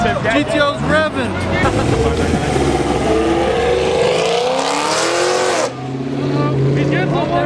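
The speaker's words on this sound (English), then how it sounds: "GTO's revving." A Pontiac GTO muscle car engine revs hard at a cars and coffee meet, loud and close with rising and falling sweeps, while voices of the crowd talk and shout over it.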